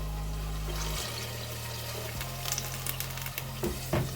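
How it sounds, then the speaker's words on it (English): Water is poured into a pan of brinjal curry gravy with tamarind, giving a steady rushing, sizzling wash that changes pitch in steps and then tapers into bubbling near the end. "add water. I'm adding about 1 cup of water"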